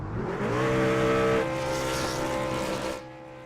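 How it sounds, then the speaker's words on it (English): A race car does celebratory burnouts after winning at Kentucky, its engine roaring loud and close with rising, sustained revs and a gritty tyre-spinning rasp before easing off near the end. "Let him just do his burnouts"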